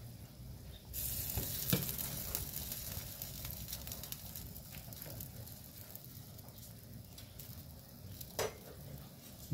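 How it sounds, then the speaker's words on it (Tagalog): Pork sinigang soup with okra on a rolling boil in a pot, a steady soft bubbling and sizzling hiss with occasional small clinks, moderately quiet and continuous. "Kulong-kulo na siya guys."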